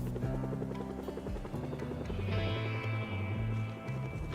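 A helicopter hovers overhead in the zombie survival game Project Zomboid, a steady low droning thrum that goes on and on, with game music or ambience layered underneath.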